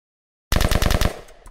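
A rapid burst of about seven or eight close, loud gunshots in a video game, an automatic-fire rattle that fades out with a couple of trailing clicks.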